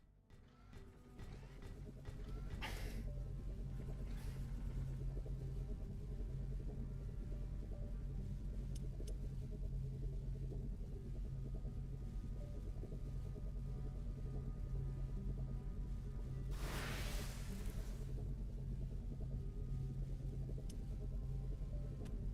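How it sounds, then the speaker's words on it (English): Howling wind of a rising storm in a survival video game, a steady low rumbling roar that holds throughout, with a brief rushing gust swelling near the middle. "The wind is picking up. A storm is coming."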